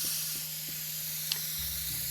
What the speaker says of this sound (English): Let's demonstrate the spray can, by the way, while we're here.